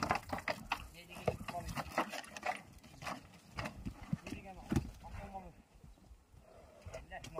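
A restless horse being held and pushed back into place with a halter, with hooves clattering and stamping in irregular bursts and thuds close by, under people's speech throughout.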